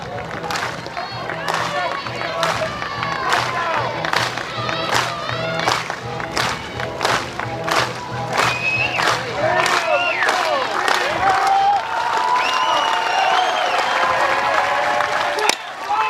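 At a Florida versus Florida State women's college softball game, the stadium crowd cheers and claps in a broad, swelling roar behind a commentator speaking, with rhythmic bursts of rising noise.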